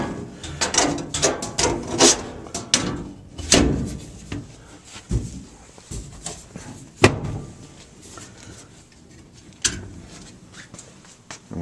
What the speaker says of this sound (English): I'll put the blower door back on